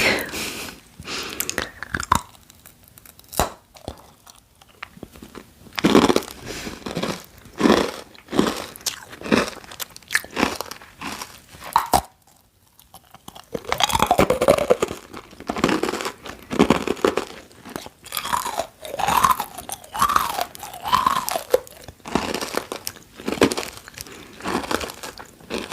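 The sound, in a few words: crunchy snack being chewed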